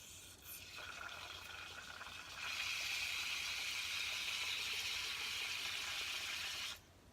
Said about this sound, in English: let's put some hot water in.